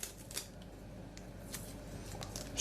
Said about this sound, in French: on va mettre le scotch